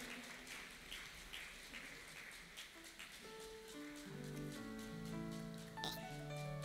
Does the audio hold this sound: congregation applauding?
yes